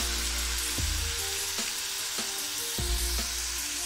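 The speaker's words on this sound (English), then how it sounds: "Tsaka po natin siya isasalang sa ating ihawan." Steak sizzling on a grill, a loud steady hiss with several sharp clicks and taps from tools over it and no talking.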